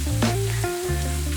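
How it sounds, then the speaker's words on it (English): Hash browns sizzle steadily in hot oil in a pan, a dense continuous frying hiss that stays loud and close throughout with no voices. "you can tell if it's hot enough if they sizzle"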